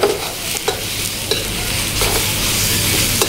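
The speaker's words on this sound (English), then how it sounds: "Just give it a quick stir fry." About 500 grams of finely cut chicken breast stir-fried in a hot pan for cauliflower and chicken chow mein, giving a loud steady sizzle with repeated stirring scrapes and no voices.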